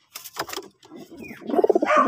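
A pigeon cooing up close, soft throaty burbles building into a quick rolling coo near the end, with a few scuffling sounds before it and no speech.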